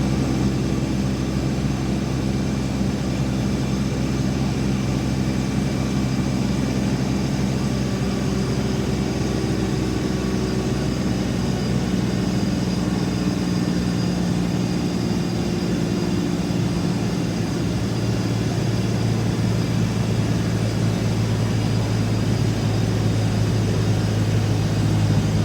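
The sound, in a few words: Kubota tractor engine under load during PTO dynamometer power test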